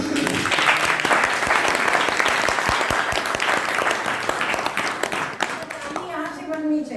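Audience applause at a Gorakhpur folk music (lok sangeet) performance: dense, sustained clapping from a crowd for about six seconds, then fading as a voice begins speaking.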